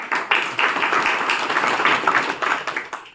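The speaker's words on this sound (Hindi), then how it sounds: "ताली बजाओ अपने लिए।" An audience at a Brahma Kumaris gathering in Shahabad Markanda applauds, dense steady clapping filling the whole span at fairly close range with no pause.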